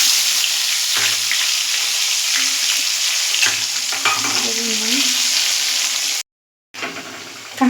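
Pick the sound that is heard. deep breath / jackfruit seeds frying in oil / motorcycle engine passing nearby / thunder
jackfruit seeds frying in oil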